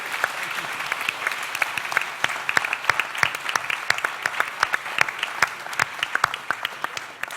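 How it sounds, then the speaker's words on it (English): Warm applause from the audience at a university raft debate, a dense steady clapping with sharp individual claps popping out, loud and continuous throughout. "let's give them a really warm round of applause"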